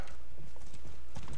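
Horse hooves clip-clop in a quick, uneven series of close hoof strikes on a hard surface, with a low steady background hum and no talking.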